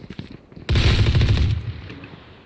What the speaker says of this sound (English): That was me shooting with the Ares.